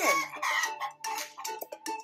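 A chicken clucks and cackles in a quick, close series of sharp squawks, loud and alone with no talking.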